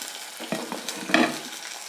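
Crushed shallots, finely chopped green chillies, split dried chillies and curry leaves sauté in hot oil, giving a brief, close sizzle broken by a few sharp stirring scrapes.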